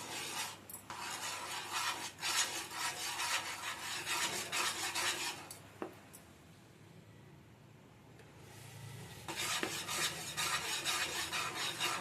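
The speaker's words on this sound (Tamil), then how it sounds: "மொத்தமாக மாவு போட்டு கிண்டிட்டு உங்களுக்கு நான் காட்டுறேன்" A ladle stirs thick adhirasam dough in sugar syrup in a big vessel with steady, close scraping and rubbing in long strokes, pausing briefly in a quieter stretch before starting again.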